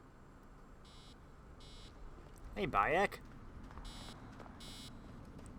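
Repeated short electronic beeps from a device in Assassin's Creed Origins, evenly spaced and moderately loud, interrupted by a brief spoken line.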